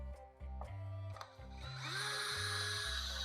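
A power drill on low gear backs out screws from a swimming pool light, whirring in short bursts that start and stop several times before a longer, steadier run, close and fairly quiet with no talking.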